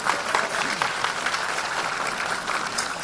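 Applause from a largely young audience at a leadership talk with Anies and Ganjar, a continuous wash of crowd clapping at moderate distance with no one speaking.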